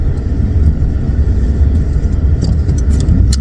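A truck towing a trailer loaded from scrap metal runs pulls across two lanes of traffic, its engine giving a loud, close, continuous rumble with slight surges and a few faint clicks near the end.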